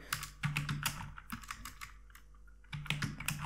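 Keys clatter on a computer keyboard as a prompt is typed into an AI chatbot, a close, quick run of clicks with short pauses between bursts.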